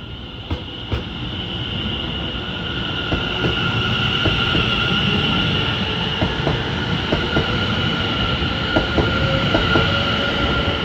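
Greater Anglia Class 720 electric unit 720542 pulling in and out of a station, a loud sustained rumble with tonal motor whine and rhythmic wheel clicks over the rails, nearby and steady throughout.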